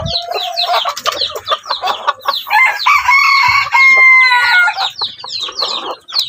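Junglefowl roosters crowing repeatedly, close and loud, with clucking between the crows and no talk.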